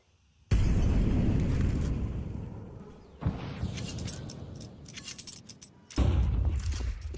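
HE grenade explosions in Counter-Strike at a pro match: two loud booms with a sharp onset, each trailing off in a rumbling decay, with some clinks and small pops between them.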